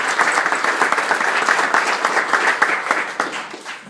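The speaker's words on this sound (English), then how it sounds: "to Nita and Peju, please give them another round of applause." An audience applauds in a dense, continuous burst of clapping at a brunch gathering that stays strong throughout, easing off slightly at the end.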